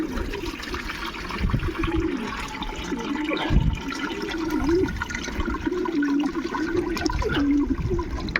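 Continuous rushing, gurgling water running and filling for several seconds, fairly loud and close, with a low churning undertone.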